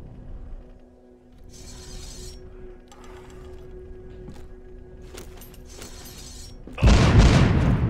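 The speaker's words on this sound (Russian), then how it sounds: "Взрыв, так я и знал." In the zombie video game The Walking Zombie 2, quiet clinks and mechanical clatter come first, then a sudden loud explosion bursts near the end and keeps roaring with heavy rumble.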